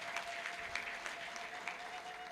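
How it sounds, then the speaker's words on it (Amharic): A church congregation applauds in praise, a faint, continuous patter of many hands clapping from a distance with a steady hum beneath. "አጨብጭቡ ለጌታ ክብር።"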